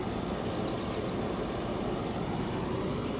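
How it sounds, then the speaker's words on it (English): A motorhome's rooftop air conditioner hums in the background, a steady, even broadband drone with no change in level and no voices. "you can hear the AC running in the background"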